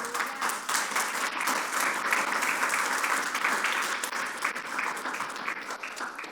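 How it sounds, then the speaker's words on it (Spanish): Church congregation applauding during a sermon, a dense, continuous roar of many hands clapping at even loudness throughout, with no talking over it. "Dame un aplauso a Dios por eso."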